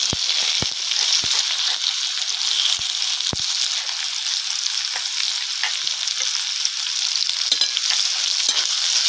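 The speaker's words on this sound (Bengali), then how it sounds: "এবার তেলে জিরা ফোড়ন দিবা, তেজপাতা, এবার পেঁয়াজ কুচি দিবা।" Cumin seeds, bay leaf and chopped onion fry in hot oil on a clay stove for chicken curry, a loud, continuous close sizzle with occasional sharp pops and crackles.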